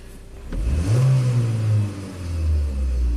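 A Chevy Captiva with a direct-injection (GDI) engine, recently swapped, revs up from idle, holds a raised pitch, dips briefly, then climbs again, heard up close with a steady low rumble and no voices.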